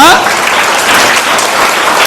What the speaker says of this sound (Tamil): அவருக்கு ஒரு கைத்தட்டு கொடுத்துருங்க